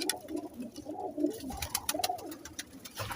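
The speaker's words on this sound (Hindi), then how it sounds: "ये सब टैडी कबूतर है।" Teddy pigeons coo in a breeder's loft, several birds overlapping in soft, repeated rolling calls at close range that continue without pause, with no voices over them.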